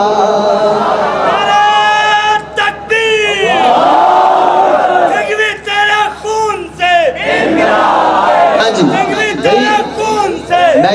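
A large crowd at a Pakistani Hamd and Naat religious gathering chants slogans in loud, fervent unison, the voices rising in repeated surging bursts separated by brief pauses.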